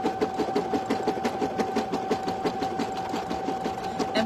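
An embroidery machine stitches a design with a steady, fast mechanical chatter and a constant whirring hum, close and even throughout.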